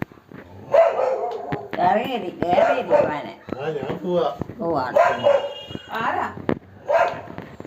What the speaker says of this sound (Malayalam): ഈ ചേട്ടനെ കണ്ടട്ടെ കുരയ്ക്കുന്നതാന്നേ